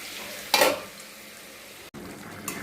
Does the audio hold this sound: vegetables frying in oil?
yes